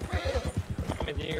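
Horse hooves clop in a quick, steady rhythm in Red Dead Redemption 2, with a faint whinny mixed into the game sound.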